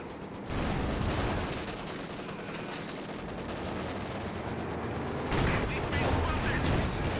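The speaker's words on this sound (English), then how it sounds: "6-pounder hits one of the Panzer IVs" Anti-tank gunfire in a World War II video game, a 6-pounder shooting at Panzer IV tanks, with a steady barrage of shots and battle noise throughout and a louder burst near the end.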